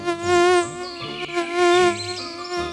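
A tiny mosquito zips past close to the ear in a fairy tale about a bear on a sunny morning, a loud, steady high-pitched whine that swells and fades twice over a few seconds.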